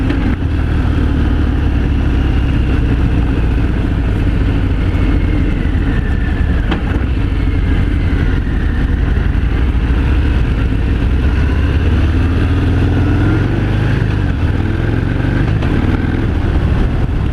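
A 2018 Harley-Davidson Fat Bob 114 motorcycle rides along a gravel-strewn back road, its V-twin engine a steady, loud low rumble with continuous wind noise throughout.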